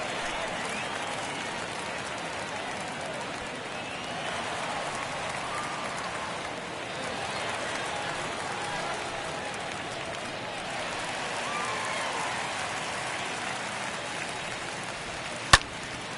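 Crowd noise at a Major League baseball game, Dodgers at Twins in opening week, a steady broad roar of fans that builds slightly, with one sharp crack near the end.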